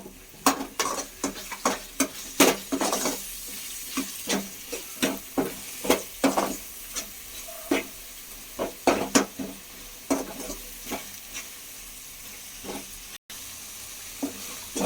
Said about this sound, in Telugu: మళ్ళీ మంచిగా కలుపుకుని కాసేపు వేగనివ్వాలి